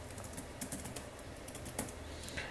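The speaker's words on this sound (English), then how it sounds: "I'm just typing like a inline styling" Soft, steady typing on a computer keyboard, with quick clustered keystrokes heard close and quiet.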